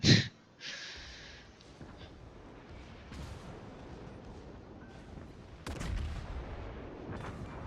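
A naval gun salvo in World of Warships, a Wyoming-style battleship duel: a sharp loud blast at the start, then a long rumbling tail and distant booms, with a second heavy report later.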